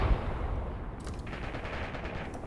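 Gunfire from the Graviteam Tactics war game sounds as a continuous, muffled, distant battle rumble. Rapid bursts like machine-gun fire are scattered through it, and no one speaks.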